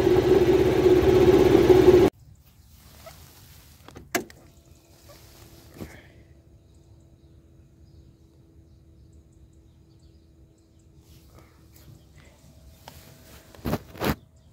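A snowmobile engine runs loudly and steadily for about two seconds, then cuts out abruptly. A long quiet stretch follows, broken by a few faint clicks and knocks.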